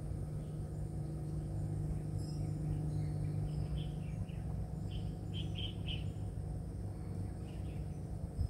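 Faint bird chirps by a backyard fishpond in Marilao, Bulacan come in short scattered bursts over a constant low hum and insect-like drone, with no voices.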